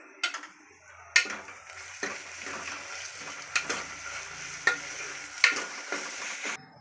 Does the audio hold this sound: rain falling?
no